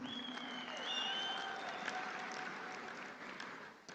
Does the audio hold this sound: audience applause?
yes